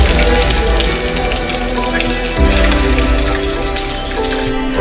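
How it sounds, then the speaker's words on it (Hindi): Water gurgles and flows steadily at a forest shrine site, a loud, continuous close-up wash with a slight shift in texture midway and no voices. "कलकल बहते पानी की आवाज मन को मोह लेती है।"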